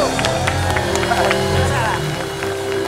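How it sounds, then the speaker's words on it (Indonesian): A game show audience applauds both competing teams, with scattered clapping and crowd babble under a host's voice throughout, steady and moderately loud. "Kita berikan tepuk tangan untuk kedua tim."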